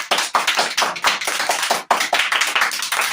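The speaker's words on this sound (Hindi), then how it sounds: "आपके लिए ताली बजा दो।" A small group of children in a classroom claps steadily for about three seconds, brisk and close, with a brief dip in the middle before the clapping resumes.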